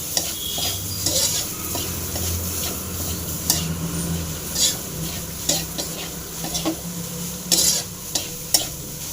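A spoon stirs a sizzling beetroot stir-fry with freshly grated coconut in a pan, with steady frying hiss and scattered scrapes and clinks of utensil on metal, close and without speech.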